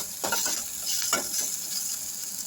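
Tomatoes sauté in a pan for crab rasam, giving a soft steady sizzle with a few brief stirring scrapes near the start; quiet, close, and with no talking.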